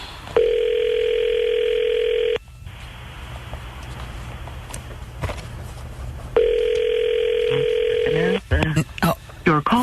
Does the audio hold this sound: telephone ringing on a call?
yes